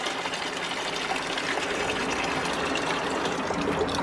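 Water runs steadily from a hot-weather hose or tap, a constant broadband rush with no pauses, fairly close and alone before washing a new car's tires.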